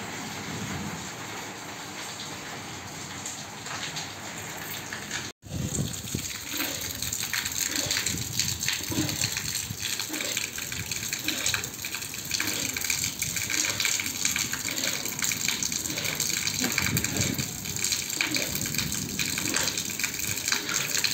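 Loud, steady rushing of rainwater gushing and pouring continuously from an overflowing sewer, broadband and close, with a brief cut near the start and no voices.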